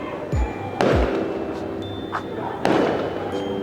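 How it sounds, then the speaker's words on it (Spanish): Fireworks burst over Medellín during La Alborada, with several sharp booms and crackles, some near and some farther off, against a background of faint voices. "ya comenzaron a verse los fuegos artificiales"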